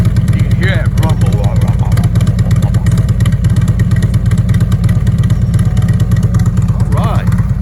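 A Harley Tri-Glide motorcycle fitted with Vance and Hines twin slash exhaust idles in a loud, close, steady throbbing rumble, with people speaking briefly over it.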